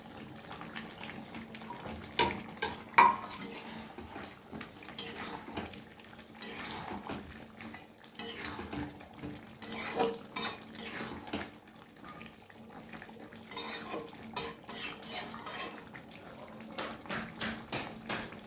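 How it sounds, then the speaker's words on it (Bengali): Fried potatoes tipped into a pot of braised meat, then stirred, giving scattered clinks and scrapes of utensil against the pot with soft wet shuffling, moderately close and steady, with no talk. "একটু আলু ভেজে রাখা আলুগুলো মাংসের মধ্যে দিয়ে দেবো।"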